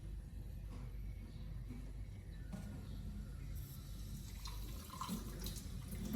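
Tap water runs into a kitchen sink during dishwashing, a steady faint splashing and hiss with occasional clinks, continuous throughout.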